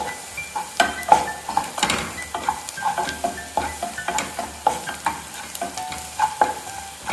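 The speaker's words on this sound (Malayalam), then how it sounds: "അപ്പൊ നമ്മളിങ്ങനെ നന്നായിട്ട് ഇളക്കി ഇങ്ങനെ കൊടുക്കണം, ഇടുക്കി പിടിക്കാതെ" Okra (ladies finger) frying in a pan is stirred with a spatula, giving repeated scraping taps over a steady close sizzle, with no talking.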